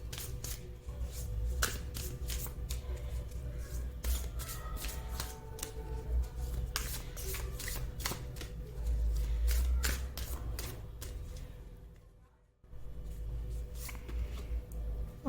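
A deck of tarot cards is shuffled by hand for a reading, with close, steady riffling and slapping of cards that runs almost continuously before a brief silent gap near the end and then resumes.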